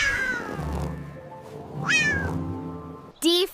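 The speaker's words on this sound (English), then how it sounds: "C for cat." A cartoon cat meows twice, a long drawn-out call followed by a short sharp mew near the end, clear and close.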